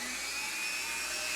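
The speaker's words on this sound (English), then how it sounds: "you would have to grind those off anyway" A grinder wears off spot-weld stubs on a Sony NP11 Betamovie camcorder battery, giving a close, steady high-pitched whine.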